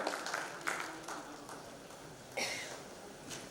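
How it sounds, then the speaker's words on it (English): An audience at a digital transformation panel discussion in Guwahati gives a round of applause, a faint, distant wash of clapping that swells slightly partway through. "A huge round of applause for Mr. Vikram Kumar."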